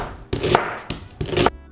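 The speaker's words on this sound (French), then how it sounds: "là on a nos oignons émincés" A knife slices onions on a cutting board in three sharp, close chopping bursts with short pauses between, loud and clear with no talking, as onions are cut for burgers.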